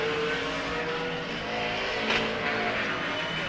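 A mini stock race car running steady on a shortcourse track, its engine droning continuously at moderate distance with a slight swell as it goes by, no voices over it.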